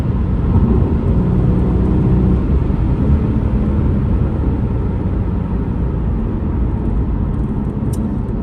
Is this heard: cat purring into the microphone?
no